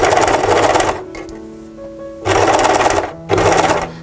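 A sewing machine stitches fabric for a jar cover in three loud rapid buzzing bursts separated by short quiet pauses, with faint handling clicks between runs.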